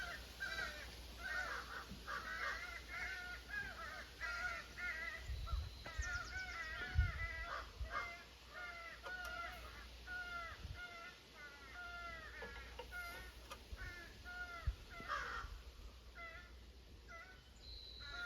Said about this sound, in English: There's a crow convention in the tree.